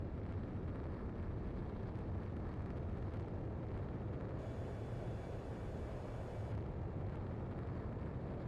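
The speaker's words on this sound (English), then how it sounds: "Projectile exploded in the distance." A distant projectile explodes in the Ace Combat 7 air-combat game, a dense, rumbling broadband roar that fills the whole stretch steadily, with a brief brighter hiss midway and no speech.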